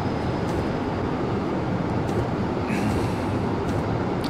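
Steady rumble of a train in motion in Train Simulator 2020, a broad continuous rolling drone with faint squeals and clicks, unbroken and without talk.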